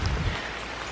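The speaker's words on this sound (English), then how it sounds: "the rain ain't stopping" Rain falling steadily on a campsite, a soft continuous wash of drops close by with no voices over it.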